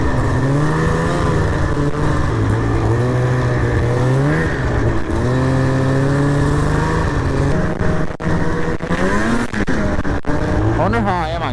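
A 2003 Ski-Doo MXZ 800R Blair Morgan Edition snowmobile running through fresh powder snow, a loud, close two-stroke engine whine that rises and falls with throttle, with some brief knocks near the end.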